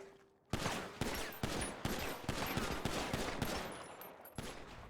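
Rapid bursts of gunfire in a GTA roleplay game, a string of sharp, loud shots starting abruptly after a brief quiet moment and continuing in irregular volleys close by, with no talking over it.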